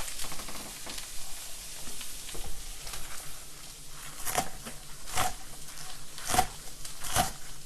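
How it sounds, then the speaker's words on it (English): Garlic, broccoli and greens stir-frying in a pan for a wine cap mushroom veggie noodle dish, a steady close sizzle with repeated sharp crackling bursts as the food is tossed and stirred. "and stir fry. Make sure that garlic doesn't burn"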